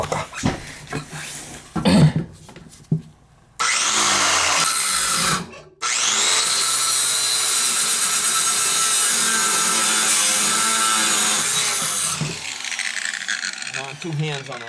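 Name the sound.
grinder cutting metal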